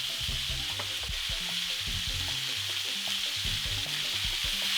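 Bits of steak sear in a wide pan, giving a steady close sizzle with a few scraping and tapping knocks from a utensil throughout, no talking.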